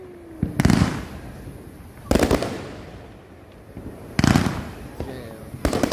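Fourth of July fireworks burst overhead, four loud booming explosions spaced about two seconds apart, each with a crackling tail, outdoors amid faint background chatter.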